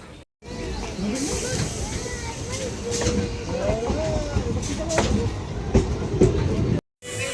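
A train arriving at a station platform, a rumbling, clattering roll with hissing brakes and squealing wheels, loud and close, with voices talking around it.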